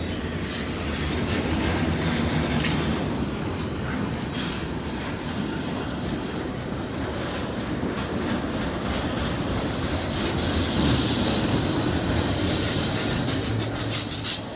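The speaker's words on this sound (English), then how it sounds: "this is one long train." Long BNSF double-stack freight train rolling past near an overpass at Carkeek Park on Puget Sound, with continuous loud rumble, rhythmic wheel clatter and metallic squealing, growing louder toward the end.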